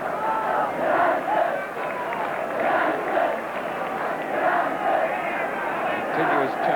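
A football crowd of almost 60,000 at a 1969 Fairs Cup final, Newcastle United against Ujpest Dozsa, chanting United in a continuous rhythmic roar that rises and falls in regular waves, heard from a distance.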